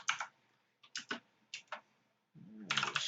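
Quiet keystrokes on a computer keyboard, in short bursts of a few taps separated by pauses, ending in a quicker run of typing, close and crisp.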